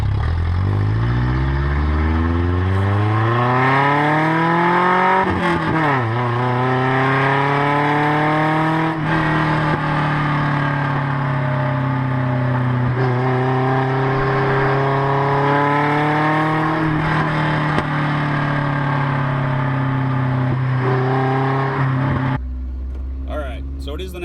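A 1992 Toyota Pickup's 22RE engine with new headers revs up and down repeatedly, close and loud, its pitch climbing and falling for about twenty seconds before it cuts off.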